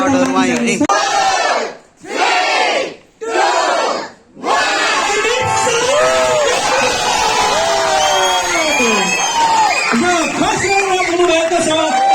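Crowd at a junior dance competition cheering and shouting loudly for the winners, starting in short bursts then swelling into sustained, dense whooping and applause-like roar with voices mixed in.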